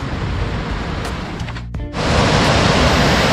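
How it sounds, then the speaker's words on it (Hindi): Water rushing hard through a partly opened dam shutter below a river dam, a loud, steady roar of spray that briefly drops out, then surges back even fuller and close. "इधर से थोड़ा शटर खुला है इसका, तो यहाँ से काफ़ी तेज़ आ रहा है पानी"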